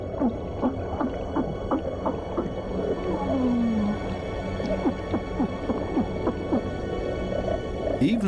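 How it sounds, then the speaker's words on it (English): A small porcupine fish on a coral reef produces repeated short bleating grunts with its swim bladder, scattered through a busy underwater soundscape of clicks, pops and crackles, with one longer gliding call partway through. "Even this little porcupine fish bleats around. It creates this sound with its swim bladder."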